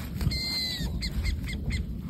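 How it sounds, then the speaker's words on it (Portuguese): Owl calls in a rainy outdoor setting: a few short, high hooting or screeching notes in a quick series, clear over steady rain hiss, with no talk. "Olha esse barulho que vocês estão vendo. É alguma coruja que tem ali."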